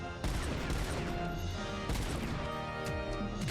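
Gunfire rings out in the Robocop: Rogue City video game on extreme difficulty, a loud opening shot followed by further sharp blasts and ringing echoes, with no talk over them.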